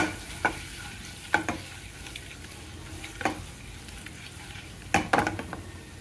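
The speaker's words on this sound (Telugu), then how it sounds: "చక్కగా గుడ్లు ఇలా వేయించేసుకోవాలండి." Eggs coated with garam masala fry in a pan for an egg fry curry, a low steady sizzle with a handful of sharp spatula scrapes and clicks against the pan, no talking.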